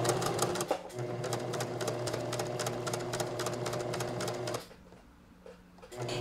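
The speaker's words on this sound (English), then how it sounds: "I will go to my sewing machine and stitch them on" A home sewing machine stitching appliqué pieces onto fabric for a Halloween pumpkin treat basket runs fast and continuous, then stops briefly and starts again near the end.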